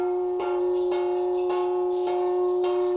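Gong struck repeatedly in a Hmong shamanic ritual, sustained ringing tone with evenly spaced strikes about every half second, loud and close, no talking.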